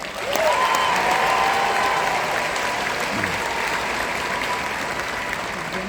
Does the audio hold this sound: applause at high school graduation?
yes